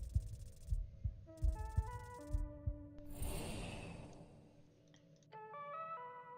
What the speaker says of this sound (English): Your heart beating fast.